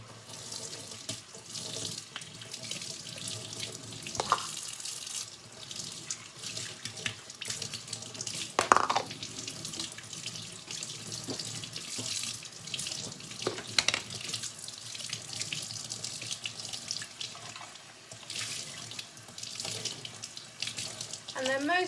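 Tap water runs steadily into a sink while a baby bottle part is rinsed, a continuous close splashing rush with small clinks and shifts in the flow.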